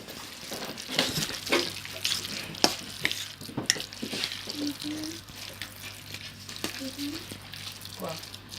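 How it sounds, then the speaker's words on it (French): Diced potatoes being stirred in a frying pan, with soft scraping and a low sizzle under a person talking, plus faint intermittent clinks. "Maintenant, on mélange."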